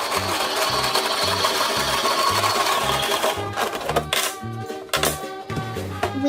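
Toy dryer from a kids' laundry playset hums and clatters in a steady loop, with regular low thumps roughly twice a second and a few sharp clicks near the end, close by and with no talking.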